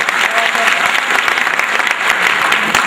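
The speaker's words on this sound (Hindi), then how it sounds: "जोरदार तालियों से इस्तकबाल कीजिए" A loud, dense round of audience applause in an auditorium hall at a Pasmanda Muslim community event, sustained clapping from a large crowd with voices murmuring underneath.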